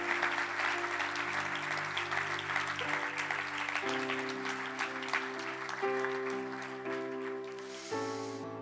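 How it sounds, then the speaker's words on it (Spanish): Church congregation applauding during a sermon, a steady wash of clapping carried over sustained organ or keyboard chords that shift in pitch, moderately loud and continuous throughout. "Dale ese aplauso fuerte al Señor."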